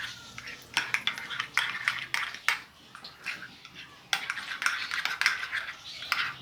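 A spoon mixing mayonnaise into yogurt in a bowl, quick repeated clinks and scrapes of metal against the dish in uneven bursts, close up with no talking.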